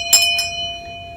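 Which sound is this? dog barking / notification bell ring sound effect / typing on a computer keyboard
notification bell ring sound effect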